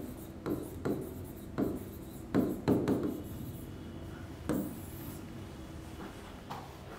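Pen or marker writing a heading on a board during a live maths lesson, with several bursts of short scratchy strokes separated by pauses, close and fairly clear, with no speech.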